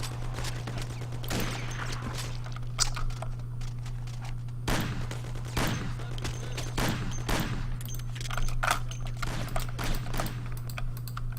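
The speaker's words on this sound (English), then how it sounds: "There's the fast shooting again." Rifle gunfire in the video game Mafia crackles in rapid irregular bursts of sharp shots over a constant low electrical hum, fairly quiet and with no talk.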